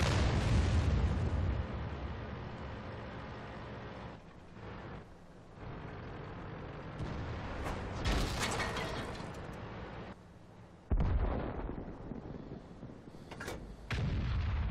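An S51 tank fires a heavy blind shot in World of Tanks on the Mines map, a loud close boom followed by rumbling mechanical battle noise and further booms and clanks.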